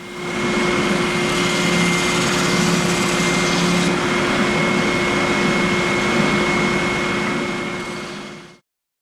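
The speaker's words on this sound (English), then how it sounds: "And then over to the sander to shape the two ends." Steady, continuous whine of a power sander shaping the ends of cherry wood cabinet handles, running loud and unbroken with a constant high tone for about eight seconds before cutting off abruptly.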